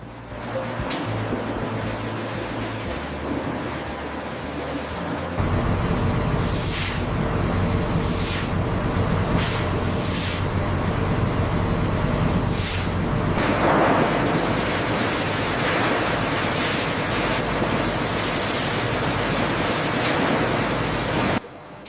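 Water washes raw tamarind pods in a continuous, loud, broadband rush, with the flow swelling and surging in places and no voices.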